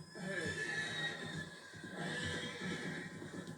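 A horse in the video game Red Dead Redemption gives a drawn-out neigh, with hoof clip-clop and game ambience underneath and a voice speaking briefly over it.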